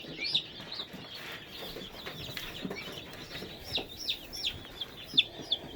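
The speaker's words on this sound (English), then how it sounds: "here are the 20 new meat birds that we just got." A brood of twenty young meat chickens peeps and clucks close by, with a steady scatter of high chirps that gets busier and louder toward the end, over a faint rustle from their pen.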